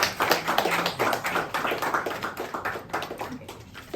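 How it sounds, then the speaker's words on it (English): Audience applause at a ceremony during a flower bouquet presentation, steady rapid clapping from a modest crowd, close and fairly loud, slowly thinning toward the end. "Round of applause."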